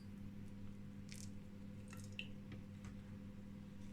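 Water dripping and squishing out of soaked-through moss being wetted with leftover plant solution, a few soft wet drips and squelches over a steady low hum.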